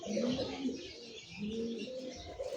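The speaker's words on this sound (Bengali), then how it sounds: "দুইটা কবুতর দেখেন ভাই, দাঁড়ানো গেট আপ দেখছেন, লাহোরি কারে কয়।" Lahori pigeons coo softly at a pigeon market, a few low, rolling calls repeating close by with no talk over them.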